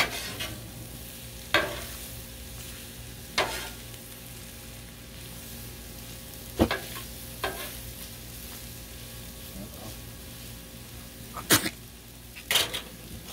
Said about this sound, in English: It was the dog coughing.